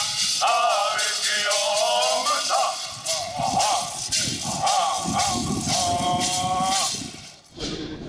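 Singing at a large powwow gathering of nations, with many dancers in regalia, rising from the background as voices hold long wavering tones over a steady, busy crowd-and-drum murmur.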